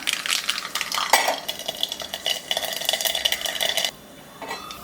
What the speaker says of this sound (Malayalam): ഒരു ടേബിൾ സ്പൂൺ വെളിച്ചെണ്ണ ചേർക്കുന്നുണ്ട് അര ടീസ്പൂൺ കടുക് ചേർക്കാം